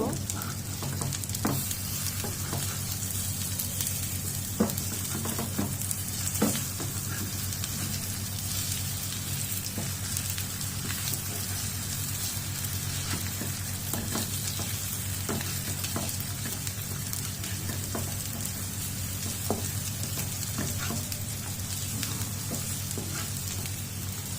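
Slices of green banana fry in a pan with a steady, close sizzle throughout, broken by occasional crackles and light clicks as pieces are turned one by one.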